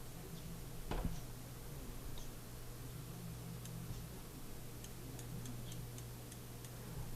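Turret adjustment clicks on a Steiner GS3 4-20x50 riflescope with aluminum caps, each click a quarter minute of angle. A string of small, crisp ticks sounds close up at a steady pace over a low constant hum.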